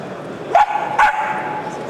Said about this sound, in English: I ask him the questions, he barks out the answers.